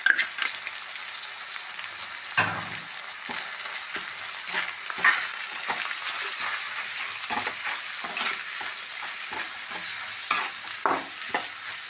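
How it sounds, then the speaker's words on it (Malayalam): Coriander powder, chili powder and chili flakes fry in hot oil while being stirred, a steady close sizzle broken by frequent scraping and clattering spoon strokes against the pan. "എല്ലാം കൂടി നന്നായിട്ട് ഫ്രൈ ആവണം."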